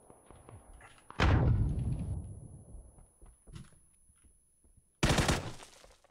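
Grenades exploding in the battle royale game PUBG, two loud blasts a few seconds apart, each a sharp burst with a rumbling decay, with faint scattered thuds between.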